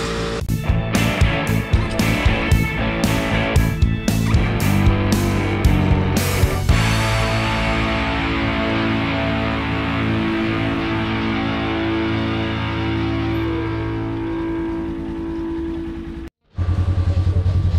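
A 2020 Polaris General 4 1000 EPI UTV with a freshly installed clutch kit driving on a test ride, its engine droning loud and close. The engine revs in pulsing bursts at first, then settles into a steady run before a brief cutout near the end.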